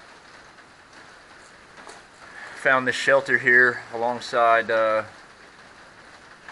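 Steady rain falls on the Appalachian Trail near Bland, Virginia, a soft continuous patter beneath someone speaking close by in a trail shelter.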